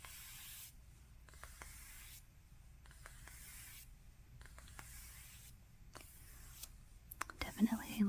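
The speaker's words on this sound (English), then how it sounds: "This is the little deodorant spray." A small aerosol deodorant spray hisses in several separate bursts of about a second each, spaced through the clip and close to the microphone, with soft handling and rustling sounds around them in a quiet room.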